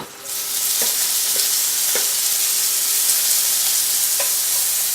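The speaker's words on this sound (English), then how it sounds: "saute the leeks in the bacon grease" Leeks sauteing in hot bacon grease, a loud, steady sizzle and crackle that begins abruptly and continues with a few stirring clicks, no voices.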